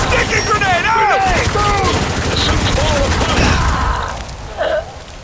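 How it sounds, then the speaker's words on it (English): Rapid automatic gunfire and bursts of shots from the video game Spec Ops: The Line, loud and continuous. Shouting and whistling effects sit over the gunfire, which then fades toward the end. "Keep firing!"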